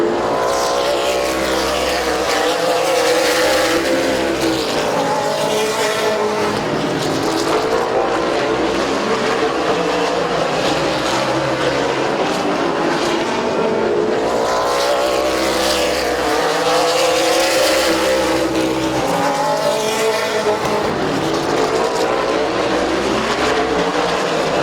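Race cars roar around the oval at Midvale Speedway, engines droning continuously and rising and falling in pitch as the pack passes, loud and steady for the whole stretch.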